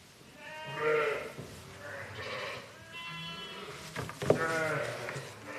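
Sheep and newborn lambs bleat repeatedly at a farm sheepfold, several overlapping calls of varying pitch, moderately close, with a louder cluster near the end.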